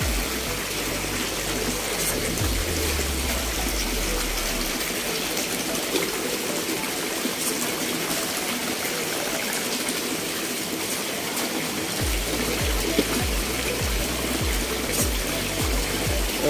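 An aerator fan in a tilapia tank churns the water into a continuous rushing splash, loud and close, with a few bursts of heavier gushing and no voices.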